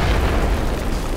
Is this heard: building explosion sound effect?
yes